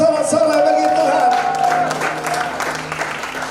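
A church congregation at a Christmas service cheers and applauds, a broad, steady wash of clapping and voices that fades slightly toward the end, with tonal music sounding underneath.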